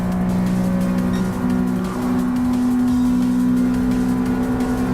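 A Daihatsu Copen's engine drones at high, steady revs during a Lightweight K Cup race in Gran Turismo Sport, loud and close with a constant tone.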